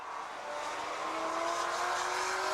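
A Jaguar banger race car engine roars and revs steadily higher at a stock car meeting, its pitch climbing as it accelerates, heard at a moderate distance with no talking.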